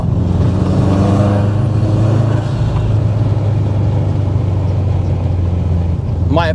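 A 350 bhp Subaru Forester STI SG9 family wagon drives along with a loud, steady engine drone close by, holding an even tone throughout.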